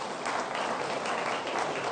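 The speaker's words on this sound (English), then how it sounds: "you sincerely deserve a special thank you and big applause" Big, dense applause from a conference audience thanking the organising team after a high-level leadership panel, loud continuous clapping filling the whole stretch.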